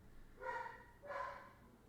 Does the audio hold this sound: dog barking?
yes